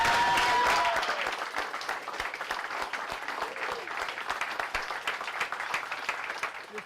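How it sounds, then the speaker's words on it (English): An arena crowd at a college basketball game at West Point applauds, a loud burst that settles into sustained clapping with individual sharp claps standing out. "you can tell with that applause, that's a resounding yes"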